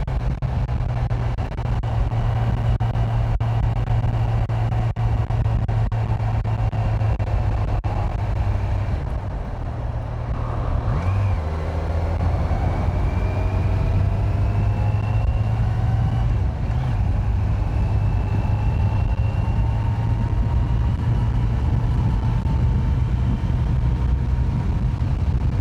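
Kawasaki Z900 motorcycle on the road, a steady engine drone with wind rush heard from the rider's position throughout, with a brief dip and a rising pitch sweep as the bike shifts and accelerates.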